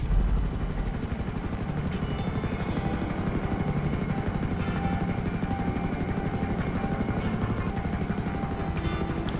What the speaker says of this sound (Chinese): 我先把直升机开过去。